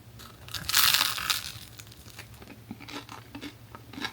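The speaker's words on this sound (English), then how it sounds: "You want to hear the crust?" A loud, dry crackling crunch of homemade bread crust up close, then smaller crumbly crackles trailing off, with no talking.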